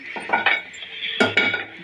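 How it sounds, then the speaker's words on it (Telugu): A metal pan is set onto a lit kitchen stove before frying maida flour biscuits, giving two close clusters of clanks and scrapes against the burner grate with a brief pause between them. "ప్యాన్ పెట్టుకున్నామండి."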